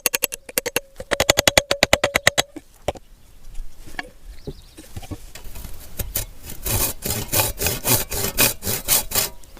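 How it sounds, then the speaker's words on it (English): A hand saw cuts the excess wood off a garden digger handle with a quick run of rapid, even strokes up close, followed by softer scraping and knocking handling sounds. "I just quickly cut off the excess wood here"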